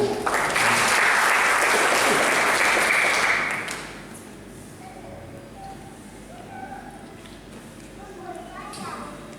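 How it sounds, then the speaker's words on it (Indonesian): A church congregation claps together in a loud, dense burst for several seconds, then stops abruptly, leaving a quieter room with faint voices and background murmur. "Berikan tepuk tangan bagi Tuhan"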